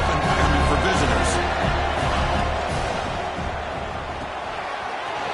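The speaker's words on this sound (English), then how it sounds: "Listen to the crowd energy here in the early going." A stadium crowd at a college football game between UNC and Duke roars as a continuous, loud wash of noise, with a commentator talking over it.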